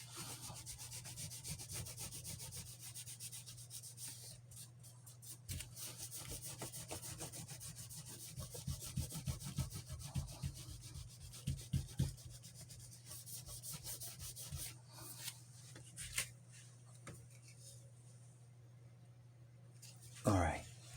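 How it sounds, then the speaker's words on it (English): A rubbing buff works over a 3D printed Blade Runner hand cannon cosplay prop, giving a steady close scrubbing and rasping with a constant hum underneath, broken by a few short louder strokes. "That rubbing buff is really nice."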